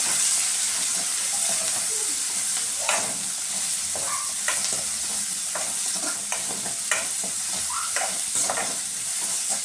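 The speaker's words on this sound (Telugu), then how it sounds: "కరివేపాకు అయితే బాగా వేగనిద్దాం" Curry leaves fry in oil while gummadikaya is being prepared, giving a continuous bright sizzle with repeated taps and scrapes of a spoon stirring the pan, close and fairly loud.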